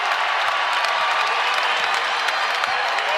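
A home college basketball crowd at a Providence Friars game against Butler applauds and cheers in a continuous loud roar that fills the whole arena, with no distinct voices standing out.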